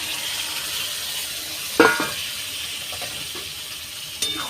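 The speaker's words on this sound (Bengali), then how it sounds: "খুন্তিয়ে করে ভালো করে এইভাবে নেড়ে নেব" Spatula stirring boiled potatoes and peas into oil-fried spices for street-style chatpati, a steady close sizzle with a couple of sharp scraping clacks against the pan.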